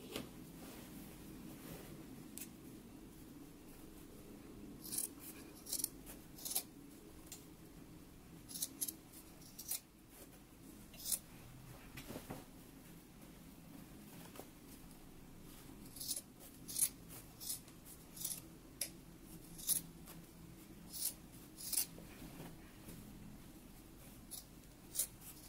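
Scissors trim the seam allowance of sewn pants after the waistband is attached: a long run of quiet, crisp snips at irregular intervals, with no talking.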